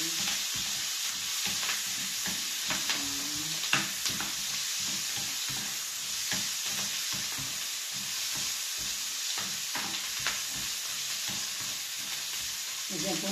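Spinach and onion sizzle in a frying pan with a steady crackling hiss, broken by scraping and stirring clatter, and a faint voice talks now and then underneath.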